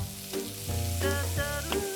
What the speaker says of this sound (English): Onions in the butter.